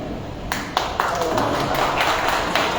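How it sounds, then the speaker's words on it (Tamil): Scattered clapping rises from a crowd at a Tamil Nadu political rally as a speaker is called to the stage, with a few sharp separate claps thickening into light applause under a voice on a loudspeaker. "டேவிட்குமார் பேர சொன்னாதான் கைத்தட்டலே வருது"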